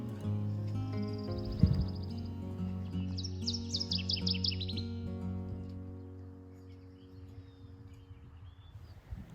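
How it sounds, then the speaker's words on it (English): A northern waterthrush sings bright, rapid chirping phrases from a spruce top in Denali National Park, Alaska, over a steady low engine-like hum, the song fairly faint and repeated in short bursts. "woke to sunshine and this northern water thrush singing non-stop from the top of this spruce tree"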